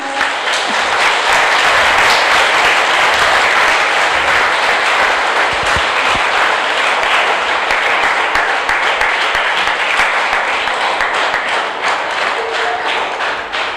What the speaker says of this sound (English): Now you got some more applause.